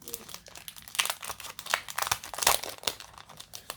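Crinkly plastic packaging around small decorative tags being unwrapped by hand, a close run of irregular crackling rustles and crumples with sharper peaks as the wrapper is pulled open.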